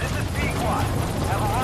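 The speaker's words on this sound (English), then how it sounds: "Chopper, land!" Helicopter rotor drone from Metal Gear Solid V: The Phantom Pain as the chopper comes in to land, a steady loud throb filling the whole moment beneath ongoing shouted game dialogue.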